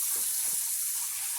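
Cold water running from a tap, a steady hiss with a few faint low bumps, moderately quiet and alone.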